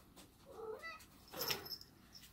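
A cat gives a couple of soft meows, close but quiet, with a brief pause between calls.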